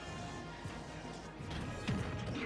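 A hit lands in Super Smash Bros as Piranha Plant's Ptooie attack connects, a short crunchy smash over busy game noise, moderately loud amid the match's background clatter.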